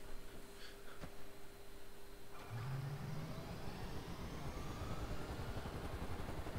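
A helicopter engine starts up in the video game GTA 5, a steady broadband whine with a faint rising tone building from about midway, with no talking.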